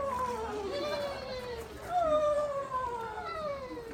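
A person imitates a descending, wavering whinny call of a screech owl, repeated in quavering trills, with a voice nearby.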